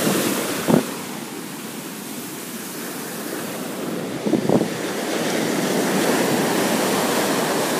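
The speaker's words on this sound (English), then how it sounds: "Sea's a bit stormy today, but you can still go swimming" Stormy sea surf washing onto a beach, a steady hiss of breaking waves with a couple of brief thumps of wind buffeting the microphone, alone with no voices.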